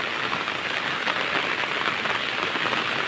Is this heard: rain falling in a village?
yes